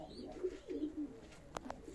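Young play pigeons cooing in a loft: soft low throaty coos repeating in short phrases, faint and close, with a couple of brief sharper sounds near the end.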